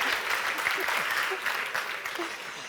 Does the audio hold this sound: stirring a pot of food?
no